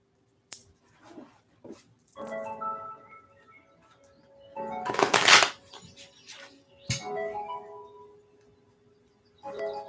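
A deck of tarot cards is shuffled by hand during a live reading, with intermittent riffling bursts and soft card rustles, close and moderately loud, broken by brief pauses.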